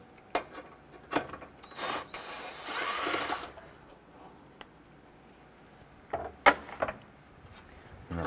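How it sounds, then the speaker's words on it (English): A ratchet with a 10mm socket works loose a bolt holding a bracket and wiring harness on a 2008-2012 Honda Accord, near the A/C condenser fan. Close, sharp clicks and taps come in short bursts, with a longer grinding rasp in the middle. "Using a 10mm socket, we want to go ahead and remove this bolt here"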